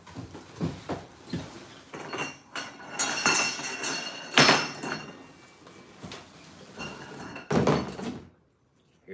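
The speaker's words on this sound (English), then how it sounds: "Just gotta snap these bolts in" Metal bolts being snapped and fitted into an animatronic figure, a run of sharp clanking knocks and clinks at close range, with several louder hits spread irregularly through the clip.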